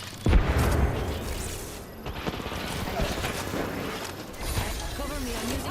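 A frag grenade goes off in a squad-based shooter video game, a short low boom near the start followed by scattered gunfire and noisy action, with voices talking throughout.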